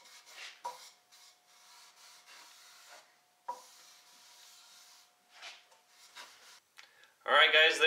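A lint-free cloth wipes across a small wooden mail shelf being finished, producing soft intermittent rubbing strokes with quiet pauses, followed by a brief louder scraping burst at the end.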